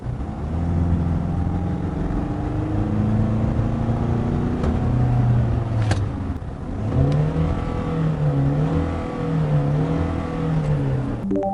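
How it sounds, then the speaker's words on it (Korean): A Hyundai Staria engine revs and accelerates steadily, its pitch climbing through gear changes, a continuous loud drone heard from inside the vehicle. "엔진 가속 사운드 한번 들려드리겠습니다"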